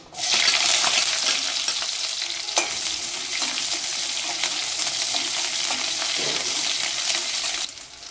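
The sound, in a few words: shallots frying in a pan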